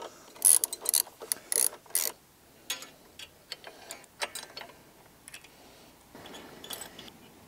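Metal bolt on the side stand of a Honda CRF300L motorcycle tightened lightly with a ratcheting torque wrench to 10 Nm, close-up bursts of fast ratchet clicks separated by short pauses and softer tool handling.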